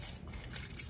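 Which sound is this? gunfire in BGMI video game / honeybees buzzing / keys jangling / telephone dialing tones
keys jangling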